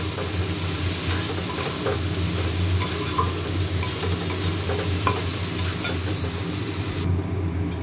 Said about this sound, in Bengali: এবারে গোবিন্দভোগ চাল দিয়ে এটা ভালো করে একটু ভাজা ভাজা করে নেব চালটাকে